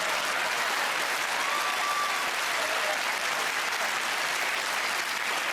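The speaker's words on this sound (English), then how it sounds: "Why are we applauding them?" Sustained applause from a studio audience at a Who Wants to Be a Millionaire taping, a dense, steady wash of clapping that fills the whole stretch without letting up.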